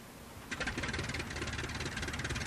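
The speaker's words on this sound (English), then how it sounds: "we just press E to start the engine" A Gotha G.V bomber's engine starting in a flight simulator game: after a brief quiet start, the engine catches and settles into a steady, loud, rhythmic chugging idle that runs on without any voices.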